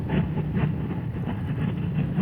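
Indian Scout Rogue motorcycle engine while riding, a mellow, steady low rumble with a fast, even pulsing rhythm heard close and without talk.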